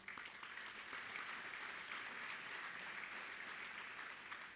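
Audience applause fills a hall at a bowling congress annual meeting, a steady dense wash of many hands clapping at moderate distance, sustained evenly throughout without talk.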